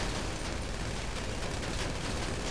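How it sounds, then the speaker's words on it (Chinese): Dense, continuous gunfire fills a Grand Theft Auto V heist shootout, a loud unbroken barrage of rapid shots with no talking. "可以直接我们这样就一直射他。"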